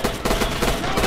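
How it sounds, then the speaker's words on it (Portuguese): Dense gunfire from the World War II shooter game Red Orchestra 2 in multiplayer, a loud continuous burst of rapid overlapping shots and blasts filling the whole moment with no pause. "Levei um tiro de amigo."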